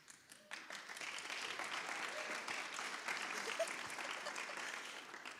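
A conference audience applauds steadily for about five seconds. The clapping is dense and even, with no one talking over it.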